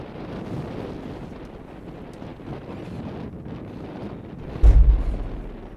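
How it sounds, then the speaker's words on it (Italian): Strong wind buffets the microphone at an outdoor football pitch on a cold day, a loud continuous low rumble that surges into a heavy gust near the end, with no talking. "il vento non dà tregua"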